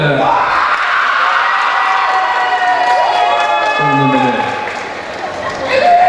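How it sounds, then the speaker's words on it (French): A pageant audience applauds and cheers for contestant number 10, a dense, sustained wash of clapping with shouts that dips briefly near the end before swelling again. "applaudissements pour Emmanuel"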